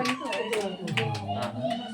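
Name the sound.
audience clapping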